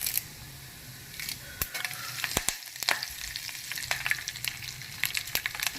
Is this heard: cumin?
yes